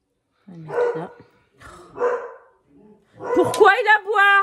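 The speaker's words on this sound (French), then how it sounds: "Pourquoi il aboie?" A dog barks in several short bursts around a person speaking French, with the barks standing out loudly near the end.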